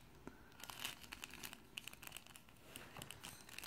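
A small paper envelope handled at close range, with quiet crinkling and rustling paper plus a few light taps and tearing-like scrapes spread through, no talk.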